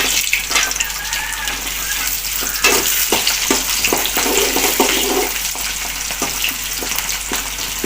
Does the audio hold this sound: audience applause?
no